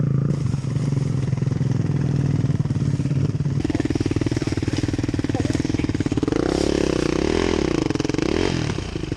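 A dirt bike engine drones and revs continuously up close on a woodland trail, its pitch rising and falling as it rattles along over rough ground.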